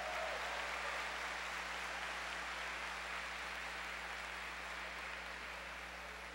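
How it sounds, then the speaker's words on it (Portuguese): A congregation at a Catholic service claps steadily, a dense, even wash of applause that continues throughout without any voices. "Pode aplaudir esse valente guerreiro que está aí do seu lado"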